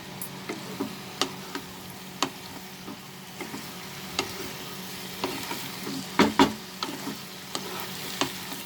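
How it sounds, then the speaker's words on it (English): Spinach and potatoes fry in a pan over a high flame, a low steady sizzle punctuated by sharp intermittent spatula taps and scrapes, with a louder cluster of strokes near the end. "Fry this over high flame. For 2 to 3 minutes"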